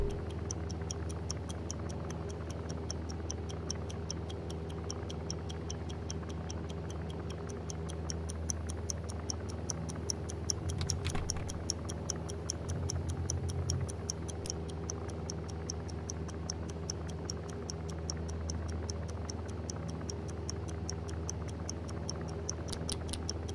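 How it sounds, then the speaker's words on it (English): A ticking bomb in the Oculus Rift VR game I Expect You To Die, a quiet, steady, even tick that runs on alone with faint background hum and a few brief soft noises. "Ha! The old ticking bomb."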